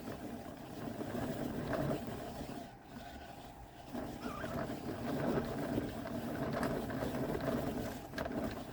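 A yarn winder spins steadily to wind a yarn cake, giving a continuous whirring mechanical drone that runs throughout with a brief dip partway.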